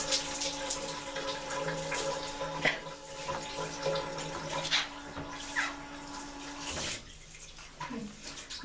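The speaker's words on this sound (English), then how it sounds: "I'm going to wet all the tiles, wet all the way up and down the shower" A shower rose sprays water steadily across shower tiles during cleaning, making a continuous hissing, splattering wash with small shifts as the spray moves, close and moderately loud with no talking.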